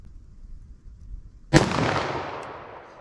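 Single-action .44 Magnum revolver fired with Remington HTP ammunition outdoors, one sharp loud report after quiet, followed by a long rolling echo that fades away.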